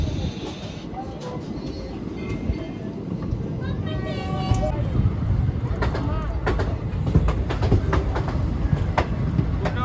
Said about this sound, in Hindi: अब हमारी ट्रेन निकल चुके हैं पंडरपुर स्टेशन से।